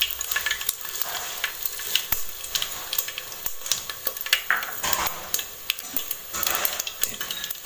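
Mustard seeds and garlic frying in hot oil for tomato saar, a loud crackling sizzle with frequent sharp pops and spatters, close and continuous, with a few utensil clinks.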